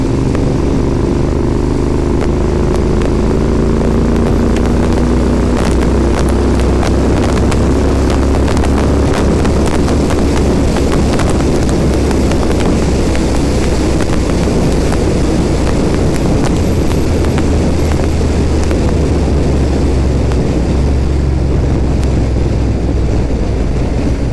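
A steady, loud car engine drone holds at constant speed, about 60 mph at 3,750 rpm, throughout, with road and wind noise and no voices.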